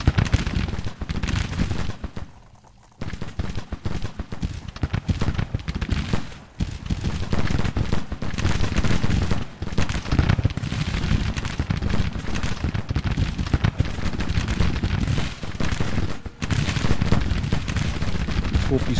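Dense, continuous gunfire and booming artillery from a Civil War battle in the game Hold the Line, with volleys and heavy blasts piling up steadily and loudly, broken only by a brief lull.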